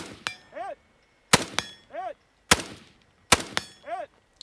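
Rifle shots ring out at a desert shooting competition stage, four sharp loud cracks spaced about a second apart, each followed by a ringing metallic clang from a distant steel target.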